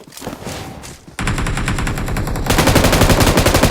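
Rapid bursts of automatic gunfire from a Spider-Man video game, loud and continuous, growing denser and more intense partway through.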